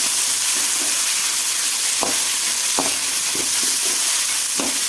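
Tomato and soaked peanuts cook in a pan for upma, a loud steady sizzle broken by several scraping stirs of a spoon against the pan at irregular intervals.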